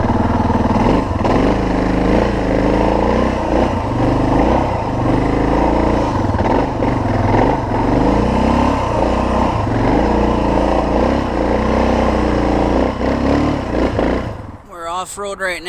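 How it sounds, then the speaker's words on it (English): A Suzuki DR650 motorcycle revs hard in rising and falling surges as its rear tire spins in thick mud off-road, the engine loud and close, with wind buffeting and a voice talking over it. "Here I'm bouncing on the bike, and even my 200-pound little butt can't get the rear tire to grip."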